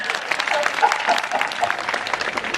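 An audience at a comedy mimicry show claps continuously, a dense and fairly loud wash of applause with voices mixed in.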